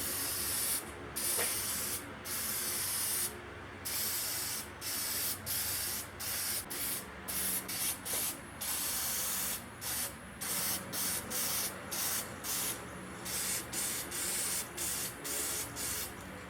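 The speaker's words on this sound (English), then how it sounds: "I think I'll go ahead and sand these little pieces and glue those onto the maple one" Small cherry and maple wood pieces being sanded for decorative succulent planters, a loud, close, hissing scrape in repeated strokes with brief pauses between them, no speech.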